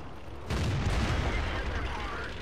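A tank cannon shot in World of Tanks lands with a sudden heavy boom, followed by a sustained rumbling roar that fills the rest of the moment, loud and close.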